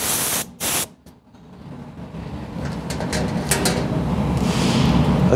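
An air-pressure spray wand applies Mopar rust proofing, a steady hissing spray that builds after a couple of brief bursts and then runs continuously and fairly loud to the end.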